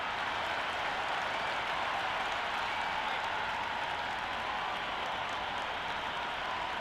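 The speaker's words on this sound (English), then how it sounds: "The crowd are making a heck of a lot of noise even before the first ball's been bowled." Cricket stadium crowd at a Hobart Hurricanes versus Adelaide Strikers match roaring in a steady, dense wash of cheering and scattered clapping, loud and unbroken before the first ball.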